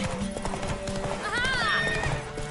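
Hooves clip-clop in a quick rhythm close by, and a horse lets out a rising whinny midway, with a voice faintly underneath, in The Witcher 3: Wild Hunt.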